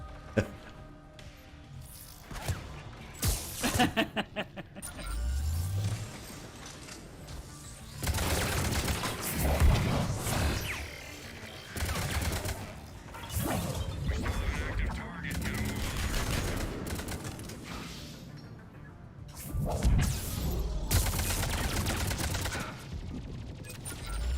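Gunfire and explosive rocket blasts from invisible enemies in Mass Effect 3 multiplayer, coming in loud bursts separated by quieter lulls, with occasional booming hits.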